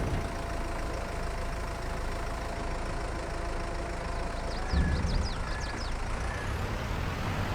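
A farm truck reverses in Farming Simulator 22, its engine idling in a continuous low diesel rumble. Partway through, a short burst of louder mechanical noise comes with a few chirping squeaks.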